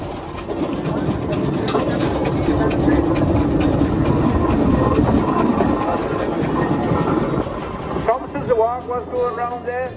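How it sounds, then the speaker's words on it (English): A steam traction engine chugs and rumbles steadily with mechanical clatter at a steam rally, fairly loud, before a voice begins speaking near the end. "lovely steam tractor unit"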